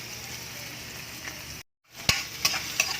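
Onions sizzle and fry in a hot pan with oil for Ilocano papaitan beef stew, a steady close crackle broken by a short silence, then a few sharp stirring clicks and spatters.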